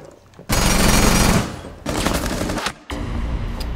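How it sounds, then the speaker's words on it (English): Automatic gunfire in Rainbow Six Siege shot through an unreinforced wall, three loud sustained bursts of rapid rattling shots separated by short pauses, close and harsh. "he shot you through the unreinforced wall"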